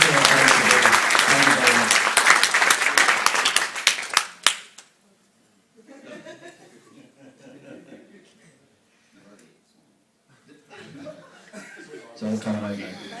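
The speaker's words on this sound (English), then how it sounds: "can I have a little round of applause for the ushers?" Wedding guests applauding loudly at a reception, with chuckles and laughter mixed in, the clapping fading after about four seconds into quieter murmuring, followed by someone speaking briefly.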